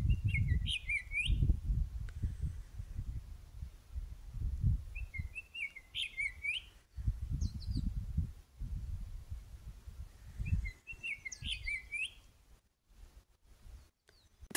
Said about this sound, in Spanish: ese pajarito está cantando bien bonito